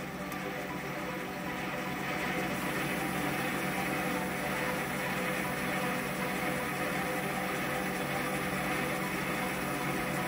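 A WM250V metal lathe takes a very light 0.02 mm skim cut at 800 RPM, giving a steady, continuous mechanical hum and whir with broadband hiss that holds at an even level throughout, with no talking.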